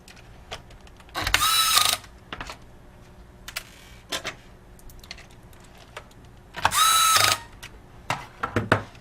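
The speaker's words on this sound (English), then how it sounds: "Apply pressure until it snaps in and replace the mounting screws." Mounting screws for a laptop video card being driven in with a screwdriver; small clicking and ratcheting ticks, with two louder buzzing bursts of a powered driver, all close and isolated.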